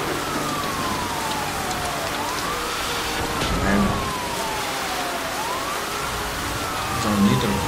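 Rain in the Need for Speed Hot Pursuit racing game forms a steady hiss beneath a wailing police siren that sweeps repeatedly up and down, with engine and road noise underneath.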